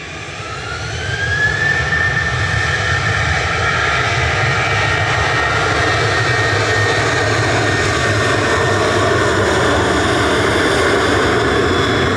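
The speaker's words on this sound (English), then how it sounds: "Ryanair departing to Shannon" A Ryanair jet departing Manchester Airport for Shannon, its engine roar rising within the first two seconds and then holding loud and steady, with a whining tone sliding upward early on and no talk.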